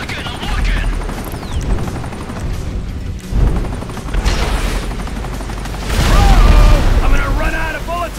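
Video game gunfire from Grand Theft Auto-style action: dense bursts of shots and booming impacts over a steady helicopter-like roar, loud throughout, with people talking over the din.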